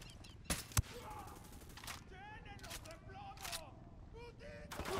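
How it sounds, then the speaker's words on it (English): Gunfire in the Ghost Recon Wildlands video game during a casino and resort job: a couple of sharp shots crack out early, with scattered faint shots and talk over steady game ambience. "Where am I getting shot from?"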